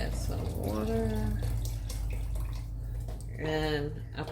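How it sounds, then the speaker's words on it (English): Water pours into a cooking pot of chicken broth, a continuous splashing flow under a person talking, with a louder rush near the end. "add some water."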